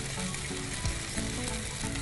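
Red chilli powder, turmeric, coriander-cumin powder and kitchen king masala fry with tomatoes in a pan, a steady close sizzle with soft stirring scrapes throughout.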